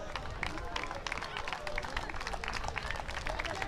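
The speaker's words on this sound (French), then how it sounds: "on va applaudir notre dernier concurrent" Spectators at a Le Mans triathlon finish applaud the last competitor, scattered outdoor clapping mixed with crowd murmur and talk, moderately distant and uneven.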